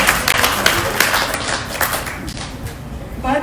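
Audience clapping for the spouses at a business art event, a steady patter of many hands applauding with sharper individual claps, while voices carry faintly underneath.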